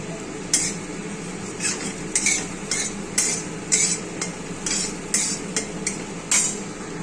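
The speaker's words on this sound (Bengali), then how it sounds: "বাটারটা যখন গলে গেছে, সেই মুহূর্তে সেটা জিরে ফোড়ন দিয়ে দিলাম, সাদা জিরে।" White cumin seeds crackling in melted butter in a pan, a low sizzle broken by repeated sharp metallic clinks of a spoon stirring against the pan.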